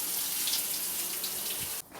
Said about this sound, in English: And now we'll just get everything watered in.